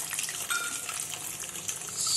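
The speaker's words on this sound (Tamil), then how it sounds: "இப்போது எண்ணெய் சூடானதும் இதில் மூணு முட்டை சேர்த்துக்கலாம்" Three eggs sizzle in hot oil in a pan, a steady close crackling hiss that runs throughout without pause or voices.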